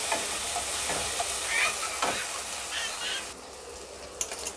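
Ingredients with curry leaves frying in a pan, a steady soft sizzle with occasional stirring scrapes, faint and close.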